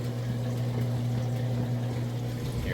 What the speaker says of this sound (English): All right, it's draining that water out now, done with the wash cycle.